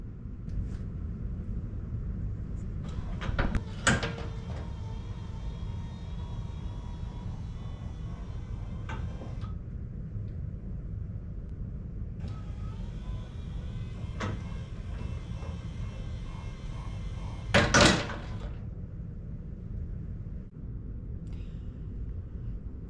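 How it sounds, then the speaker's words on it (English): A motorized passenger door runs through a slow open and close cycle, its motor giving a faint, steady whine for several seconds each way, with brief louder clunks as the door reaches its stops; the background holds a low rumble and no speech. "I wanted to show you how this motor works, how quiet it is, and the transition time or the speed it takes to open and close the door."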